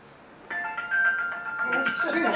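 A phone rings with a bright repeating electronic tone that starts abruptly and holds steady, with someone talking over it toward the end.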